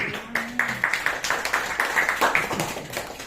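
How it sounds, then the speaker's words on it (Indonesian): An audience at a network marketing seminar claps along in a quick, regular beat, each clap distinct and fairly close, while faint voices carry underneath. "Ya, boleh tepuk tangan."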